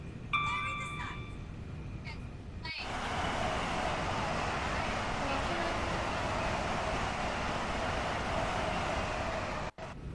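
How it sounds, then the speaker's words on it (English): A train in a video game rolls along with a steady, smooth rumbling drone after a brief chiming tone at the start, ending with a sharp click near the close, while someone talks over it. "How can you not like trains when they sound like that?"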